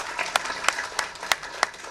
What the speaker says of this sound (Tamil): உங்கள் கைதட்டுக்கொள்வது